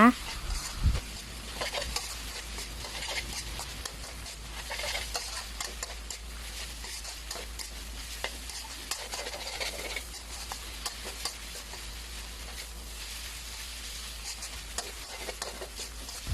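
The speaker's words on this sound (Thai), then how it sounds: "จากนั้นก็ผัดต่อค่ะ ผัดคลุกเคล้าแค่พอใบกะเพราสลดลงไปเท่านั้นนะคะ" Holy basil and minced pork stir-fried in a pan, with a steady low sizzle and soft scraping and clicking of a spatula continuing throughout, fairly quiet and close, with no talking.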